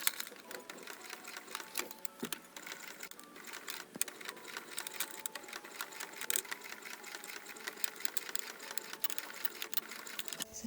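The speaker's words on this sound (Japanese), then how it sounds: "そしてここを縫います。" A sewing machine steadily stitching fabric for a mini shoulder bag, with a continuous fast rattling hum at close range and faint ticks throughout.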